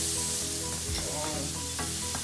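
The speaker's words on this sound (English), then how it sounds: "Can you hear the sizzling sound?" Noodles, rice and mixed vegetables sizzling in a hot pan, a constant crackling hiss with a few soft scrapes of stirring, no talking.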